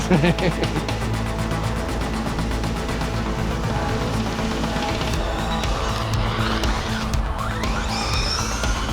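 RC10T radio-controlled truck with a slipping clutch whining continuously at high revs, tires scrabbling and squealing on the ground, with people talking over it.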